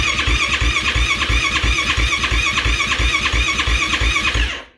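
A 2023 Yamaha YFZ ATV fitted with a Vortex ECU, which starts hard, runs with a steady, loud, close engine note and rapid rhythmic firing pulses throughout, then cuts off abruptly at the end.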